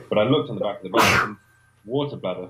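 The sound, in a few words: sneeze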